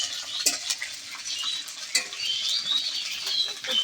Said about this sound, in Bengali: পনিরটা আমি লাল লাল করে একটু ভেজে নিব।